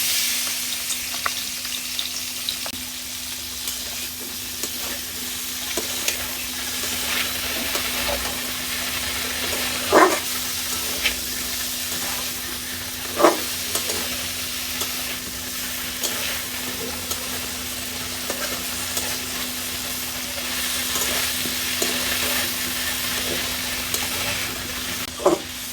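Prawns for a chingri malai curry fry in hot oil with a long, steady sizzling hiss, broken by occasional sharp pops and utensil knocks, close and without talk.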